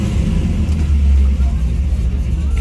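A 1977 Pontiac Trans Am SE 400 V8 idles after a cold start, a loud, steady, deep rumble that holds for the whole stretch with slight swells in level.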